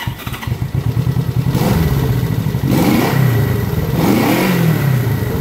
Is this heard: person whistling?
no